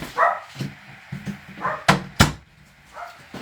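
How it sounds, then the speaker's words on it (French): A small dog outdoors yaps repeatedly in short, sharp bursts spread across a few seconds, moderately loud and slightly distant, with a couple of louder yips near the middle and no talking. "mon petit chien jappe"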